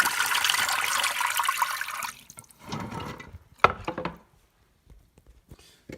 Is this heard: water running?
yes